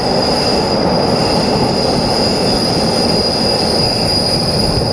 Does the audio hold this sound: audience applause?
no